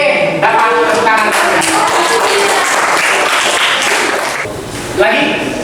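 A small group of students claps together for a few seconds in a classroom, close and lively, with voices talking over the applause.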